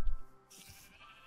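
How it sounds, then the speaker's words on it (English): A sheep bleats once in a video game, a short close bleat followed by quiet game ambience. "Some sheep."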